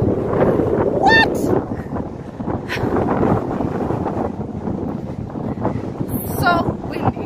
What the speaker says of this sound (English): So windy. So, so windy.